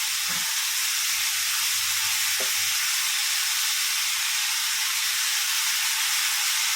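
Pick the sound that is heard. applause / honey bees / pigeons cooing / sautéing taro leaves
sautéing taro leaves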